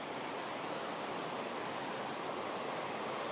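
Dense, steady rushing of a river flowing beside an ancient woodland copse at Black-a-Tor on Dartmoor, a continuous broadband wash with no breaks or voices.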